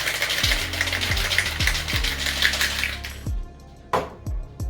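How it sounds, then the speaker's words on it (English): Whiskey sour and ice shaken hard in a cocktail shaker: a close, steady rhythmic rattle of ice with regular low thumps for about three seconds, then a few separate knocks as the shaking stops. "We're gonna shake this 8 to 10 seconds."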